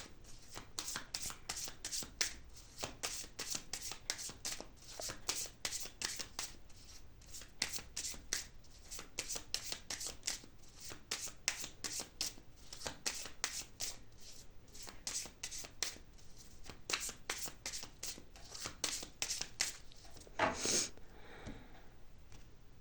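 Oracle cards are shuffled over and over in a steady riffling rhythm, close up, with a brief louder flutter near the end.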